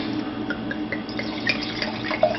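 Wine pours steadily into a glass with a soft splashing trickle, close up, with faint clinks and small bubbling bursts, no voices.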